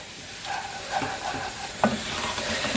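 Porridge oats being stirred into a sizzling meaty mince mixture in a pot for cottage pie: a spoon scrapes and turns through the wet mixture over a continuous close sizzle, with no voices.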